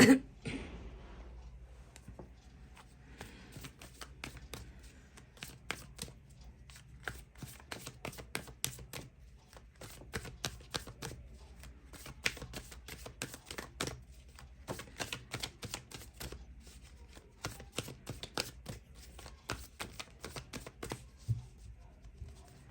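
Tarot cards shuffled at length to draw an advice card: a steady, faint patter of quick card flicks and taps, close and continuous with no talk.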